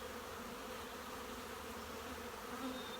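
Honey bees hum steadily inside a crowded hive, a dense continuous buzz with no pauses, close and even throughout.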